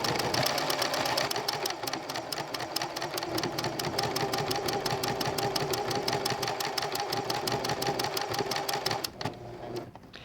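A sewing machine runs pinstitching along lace, a fast, even mechanical clatter of needle strokes close by for about nine seconds before stopping.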